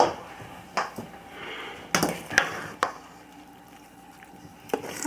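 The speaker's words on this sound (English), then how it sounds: "what I'm going to do now is do the last stir" A spoon stirs amaretto bread pudding mixture in a bowl, giving a few sharp clinks and soft scrapes against the side, close and moderately quiet, with no talk.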